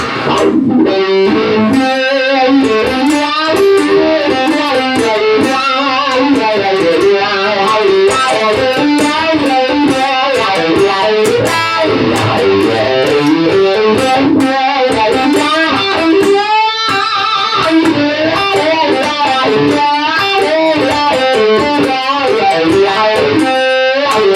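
Electric guitar through a $500 wah pedal set to a bright, high setting, playing continuous, loud, busy melodic lines with a slightly distorted tone.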